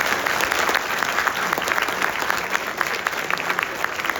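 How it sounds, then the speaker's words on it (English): A high school audience applauds a guest speaker after his talk, a dense, steady wash of many hands clapping throughout, fairly close and even in loudness. "Let's give AJ a round of applause, guys."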